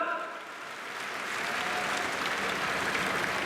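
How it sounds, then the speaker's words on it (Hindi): Thunderous, sustained clapping fills a crowded pandal as an audience welcomes Baba Ramdev, swelling after a brief dip and holding steady, with a voice faintly audible beneath. "जोरदार तालियां कृपया पूरा पंडाल"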